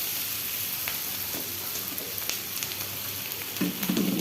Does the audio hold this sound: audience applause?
no